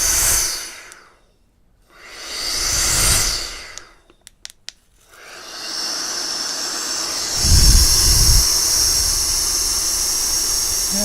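A homemade blower runs loudly in bursts, surging up and cutting out twice before settling into a steady, strong rushing whoosh that swells louder near the end.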